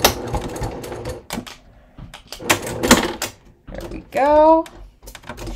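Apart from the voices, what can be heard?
sewing machine back stitching a leather bag seam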